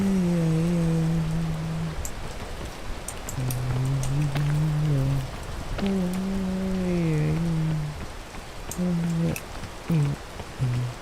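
Continuous rain patters in a video game while someone talks over it in several bursts, the wash of drops holding steady underneath.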